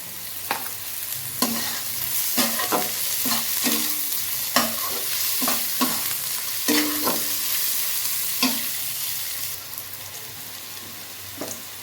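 Onions fry in a pan for a Bengali mocha chingri ghonto, salted to soften, with frequent sharp spatula strokes scraping the pan over an even sizzle, close and loud, no voices.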